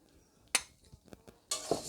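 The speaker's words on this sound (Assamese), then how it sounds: "মই প্ৰথমতে মুগ দালিখিনি ভাজি ল'ম শুকানে।" Mung dal being dry-roasted in a hot kadai, heard as a few faint metal scrapes and light clinks of a spoon against the pan, spaced apart in an otherwise quiet kitchen.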